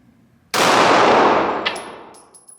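A single loud, close gunshot from a Glock 19 9mm pistol cracks sharply and then rings out in a long decaying echo, followed by faint metallic ticks as it fades.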